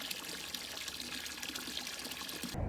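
Water splashes and trickles in a bucket on a farm, a continuous soft pouring wash heard close and fairly quiet, ending with a brief clunk.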